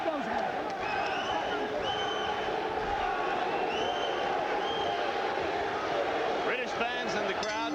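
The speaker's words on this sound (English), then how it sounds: "British fans in the crowd chanting for their man, Gary Jacobs." British fans at the Pernell Whitaker vs. Gary Jacobs world title bout chant for Jacobs before round 12, a loud, sustained arena chant that fills the whole stretch without a break.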